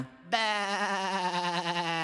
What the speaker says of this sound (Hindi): नहीं बार्टोलीटो, वो एक भेड़ है।